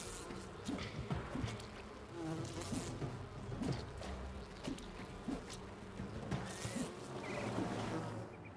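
A swarm of bees buzzing in the video game Enshrouded, a dense droning hum with pulsing swells and passing flights, close and continuous, with occasional faint knocks beneath it.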